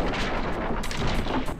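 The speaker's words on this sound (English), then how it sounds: "okay, and explosions." Explosion effects from a homemade gaming intro hit as a dense run of heavy booming blasts, like rapid artillery fire. They stay loud and constant for under two seconds, with no talking underneath.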